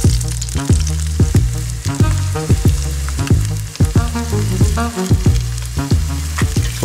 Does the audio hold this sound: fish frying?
yes